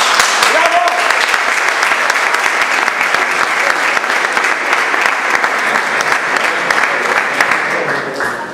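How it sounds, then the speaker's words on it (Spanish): An audience at a rondalla gathering applauds in dense, steady clapping that holds loud for several seconds and then tapers slightly at the end. "un saludo para ellos y un aplauso"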